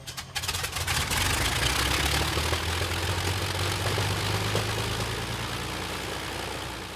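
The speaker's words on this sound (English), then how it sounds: "The Rolls-Royce Merlin engines receive their engine tests." A Rolls-Royce Merlin aircraft engine running on a ground engine test, a steady, loud low rumble with a constant droning tone that holds evenly for several seconds after a brief start.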